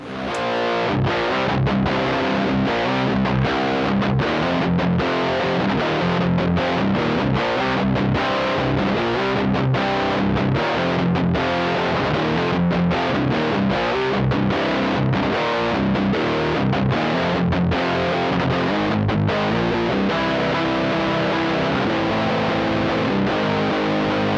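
Heavily distorted electric guitar through a Valeton Dapper effects pedal plays a continuous, loud, driving riff with dense fuzzy tone and no pauses.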